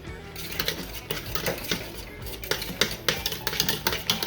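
A spoon scraping and knocking against a pot while strawberries and pectin are stirred together for Carolina Reaper jam, producing quick rhythmic clatters and scrapes that grow busier toward the end, close and moderately loud.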